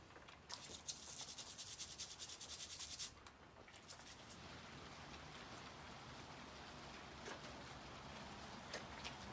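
Plastic taillight edges on a 1988 Dodge Raider are scrubbed clean, a faint, close, continuous rubbing with brisk strokes at first that soften and even out, with no talking.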